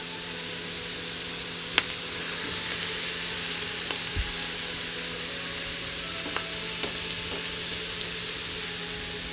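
Salmon and pineapple sizzle steadily on a hot pan grill, a continuous bright frying hiss with a few faint clicks and taps.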